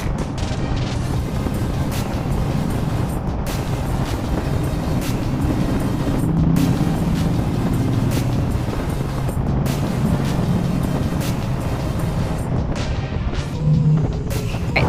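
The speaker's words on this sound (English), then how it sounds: "it just seems so weird to have a motorcycle in a tunnel under the water" A motorcycle's steady, loud engine drone rumbles continuously inside an echoing underwater road tunnel in Mobile, Alabama, with a low roar that never lets up.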